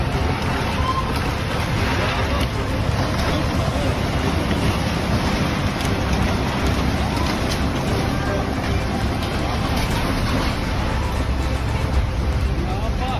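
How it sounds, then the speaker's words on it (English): Strong typhoon winds of about 90 mph buffet the microphone while water surges and crashes through streets in Zhuhai, China, a constant loud roar with no pauses. "90-mile-per-hour winds sent water rushing"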